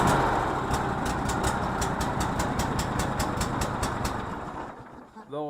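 A Cub Cadet LT1046 lawn tractor engine runs rough and loud up close, a steady uneven rumble with a rapid regular ticking pulse, fading toward the end as it winds down.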